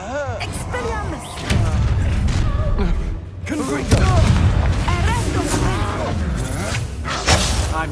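Spell-casting combat in Hogwarts Legacy, with heavy booming blasts and thuds layered under dense shouting voices and music for several seconds.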